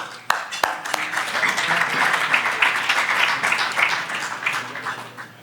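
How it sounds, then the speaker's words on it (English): Hearty audience applause fills a conference awards luncheon, beginning with a couple of sharp claps and swelling into steady, dense clapping that gradually fades. "Big round of applause for everybody who came here today."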